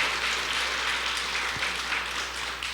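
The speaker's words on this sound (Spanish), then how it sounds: "Démosle un aplauso al Señor." A church congregation claps steadily in a continuous, dense wash of applause that holds at an even level throughout.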